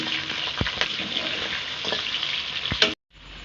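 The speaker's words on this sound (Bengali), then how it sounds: "আলুগুলো আমি ভেজে নেব।" Potatoes fry in hot oil, a dense continuous crackle and sizzle with a few sharp stirring clicks, ending in a sudden break and a quieter resumption.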